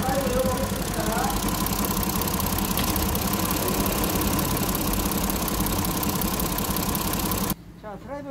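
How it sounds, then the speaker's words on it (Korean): Car engine with a misaligned timing belt shaking heavily after being shifted into drive, a steady loud rumbling idle with rattling vibration throughout, voices talking over it, then dropping off abruptly near the end. "자, 이것을 우리가 드라이브를 열면 상당히 더 떱니다."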